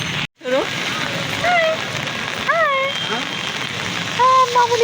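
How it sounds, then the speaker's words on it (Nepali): Heavy rain in Nepal pours as a constant, dense hiss beneath high, wavering voices of an adult and a small child. "पानी परेछ आज नेपालमा बेसरी पानी पर्यो"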